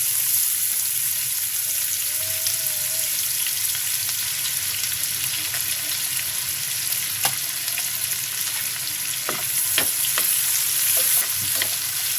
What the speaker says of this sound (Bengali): আমি পেঁয়াজ দিয়ে দিচ্ছি।